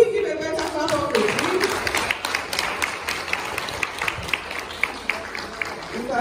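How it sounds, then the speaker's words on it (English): An audience at a women's conference claps together in a loose burst of applause that builds and then carries on at a moderate level, with voices mixed in at the start. "Can we give a better clap of it?"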